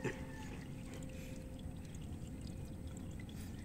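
Motor oil pouring steadily from the drain plug hole beneath a motorcycle engine, a continuous low liquid stream heard close and alone without talk.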